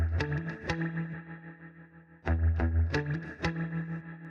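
An electric guitar played through a Planet of the Amps pedal with the gain turned down gives a punchy, slightly gritty tone: picked notes and chord stabs in quick bursts, loud and close, with no talking.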